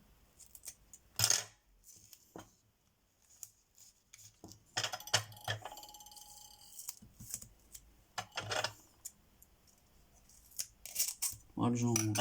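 Scattered sharp snips and clicks of craft scissors with blades sticking, separated by quiet gaps, with brief bits of speech and handling noise.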